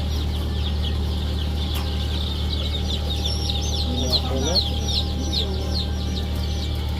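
Young chicks in a poultry house give soft, scattered peeps and chirps while being dosed with vaccine drops by mouth, over a steady low hum of farm machinery in the background.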